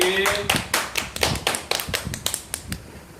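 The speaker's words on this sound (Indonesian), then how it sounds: "Beri aplaus dulu untuk kita semua ibu-ibu" A group of women clapping together in a training session: a short burst of quick, uneven claps, fairly close, fading over about three seconds.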